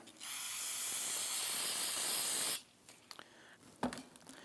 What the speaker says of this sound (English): Periodically spray it down with some solvent.